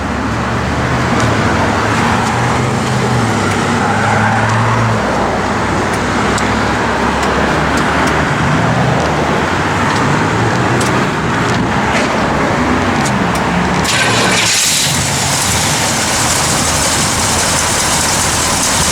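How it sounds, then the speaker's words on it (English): A 1965 Chevrolet Malibu SS V8 engine runs steadily with a deep, loud rumble throughout, idling with a throaty low tone and a brief shift near the end. "You can go ahead and fire it up, Gary."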